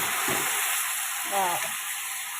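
Meat and taro curry frying in a pan, a constant close hiss of sizzling oil with a couple of faint stirring scrapes, no talk.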